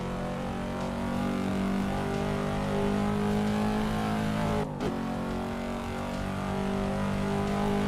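A Cadillac CT5 engine revs hard and high in a Shuto Expressway driving simulator. The loud drone is held steadily, with a brief dip in revs partway through, and no talking is heard.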